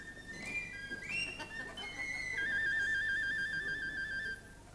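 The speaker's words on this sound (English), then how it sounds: "there was this penny whistle man" A penny whistle plays a short bright melody, fairly faint, ending in a wavering trill and then stopping.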